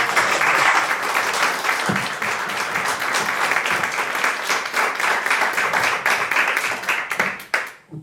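Applause at the closing panel of a symposium, an audience clapping steadily and loudly for several seconds before it fades out at the end.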